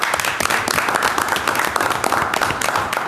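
A crowd applauds steadily after a speaker's request during a Youth Build program event, dense continuous clapping filling the room for about three seconds at moderate loudness.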